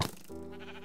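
Sheep bleating in the video game Minecraft: one short, nasal bleat after a brief click, alone and close.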